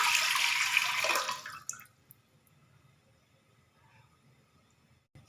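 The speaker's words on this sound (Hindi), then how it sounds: "अब मैं इसके अंदर 1 गिलास पानी, सबसे पहले 1 गिलास पानी डालना है" A glass of water is poured into a clay cooking pot, a bright, splashy stream that runs loud for under two seconds, then cuts off. A few faint drips and quiet settling follow in near silence.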